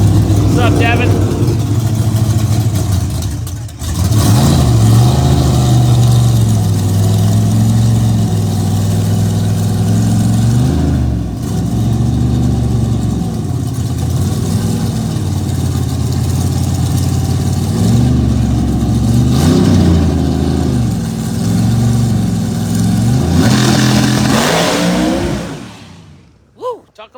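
A Vigilante Associates 632 drag race car at Bradenton Motorsports roars loudly up close through a launch, its engine note wavering and pulsing with tire shake before cutting off abruptly near the end.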